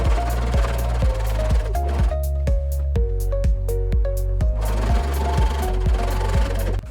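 A sewing machine stitches a pillowcase made from a sheet, running with a steady, rapid mechanical chugging rhythm at close range and without pauses.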